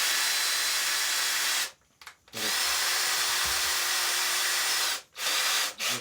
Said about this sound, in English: I'm gonna drill some holes because this wood is too brittle